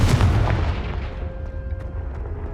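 A Confringo spell explosion in Hogwarts Legacy: one loud blast at the start that rumbles and fades slowly over the next two seconds, with a faint tonal ring lingering underneath.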